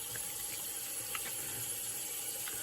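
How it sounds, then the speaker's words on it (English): Water runs and splashes at a bathroom sink as a face is rinsed, a faint continuous trickle with small intermittent splashes. "On the secondary rinse, so I've already rinsed my face once."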